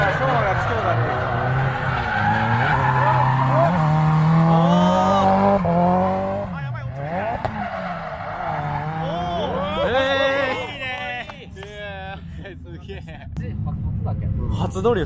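A Nissan Silvia with an overhauled engine drifts, its engine rising and falling in pitch with bursts of tire squeal, while people talk over it throughout.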